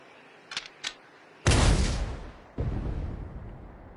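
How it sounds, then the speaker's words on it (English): A tank cannon fires a single booming shot that rolls off into a long rumble, followed by a second heavy blast, after a couple of brief sharp clicks. "Fire one shot right at the midpoint between Shiva and the Royal Army!"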